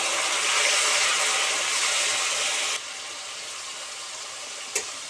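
Water poured into frying masala for a nadia bara curry, giving a loud broadband hiss and rush that drops off sharply midway, then a quieter simmer with a brief clink near the end.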